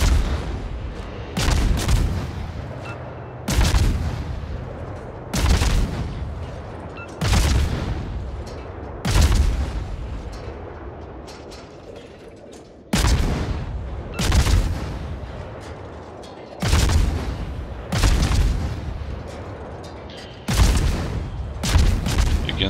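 Heavy gun salvos from a Khabarovsk destroyer in the World of Warships naval game, booming blasts fired in quick clusters every couple of seconds, loud and close, each followed by a rumbling decay.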